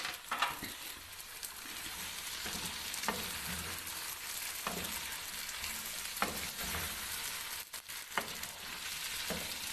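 Chopped capsicum, onion and tomato frying in a pan, a dense, steady sizzle with repeated scraping stirs of a spoon against the pan at irregular intervals.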